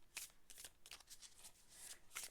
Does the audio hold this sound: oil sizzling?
no